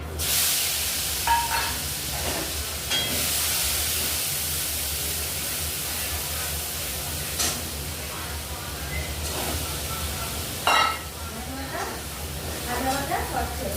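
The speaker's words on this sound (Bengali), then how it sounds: "কালো জিরে ফোড়ন দিয়েছি, এখন এই মশলাটা দিয়ে দিচ্ছি।" A spice paste of cumin, coriander, salt and turmeric fries in oil tempered with nigella seeds for a catfish curry, making a soft continuous sizzle with occasional crackles beneath a person talking.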